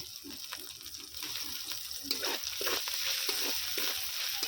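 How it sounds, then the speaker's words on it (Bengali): Spices and chopped green chilies fry in oil for a veg momo filling, a continuous close sizzle with repeated stirring clinks and scrapes throughout, no speech. "এর মধ্যে দিয়ে দিচ্ছি কেটে রাখা কাঁচা লঙ্কা"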